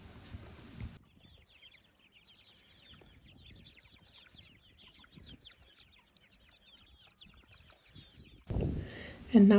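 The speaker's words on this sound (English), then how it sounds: "So this is how it looks when all 70 chicks are in there, and the geese are still walking around this coop" About seventy young chicks in a movable coop, with geese walking around it, keep up a faint, steady chorus of high peeps and soft clucks, ending in a short burst of louder handling noise.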